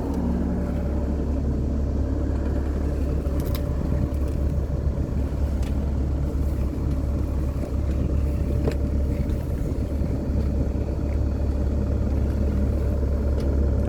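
A Cummins Onan 7.5 kW quiet diesel generator's engine runs as a steady, unbroken low rumble with a dense mechanical hum. It stays loud and constant throughout, with no voices.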